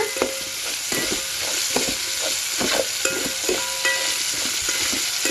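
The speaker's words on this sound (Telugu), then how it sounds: "ఈ పోపు అనేది చక్కగా దోరగా పచ్చివాసన పోయిందాకా వేయించుకోవాలి" Tempering spices crackle and sizzle steadily in hot oil, with intermittent scraping of a spoon stirring the pan, close by and continuous.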